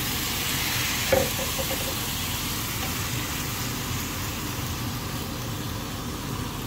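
Chicken feet sizzle steadily in a hot pan for adobo, a continuous close frying hiss with a brief clatter near the start as they go in, no voices.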